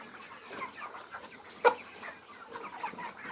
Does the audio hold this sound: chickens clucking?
yes